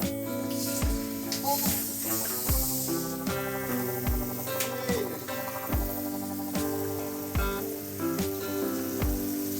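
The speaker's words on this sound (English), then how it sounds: "So finally here comes the time to add this beer." Beer poured into beef cooking in a pan with bitter melon, Naga style, giving a steady broad hiss and sizzle that runs throughout, with repeated clicks and bumps layered over it.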